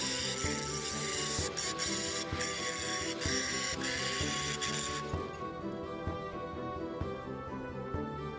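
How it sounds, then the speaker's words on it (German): A steady, continuous abrasive grinding of forge scale off Damascus steel for a hand-forged knife runs throughout, loud and close, with a constant raspy texture and no pauses or voices. "Danach schleife ich den meisten Zunder ab."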